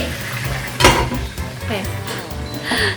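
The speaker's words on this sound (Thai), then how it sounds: "นี่น้ำมันกระเด็น เยอะมากนะ" Hot oil crackles and spits loudly in a pan of frying crispy pork belly, with a steady sizzle broken by sharp bursts and the clatter of cookware close by.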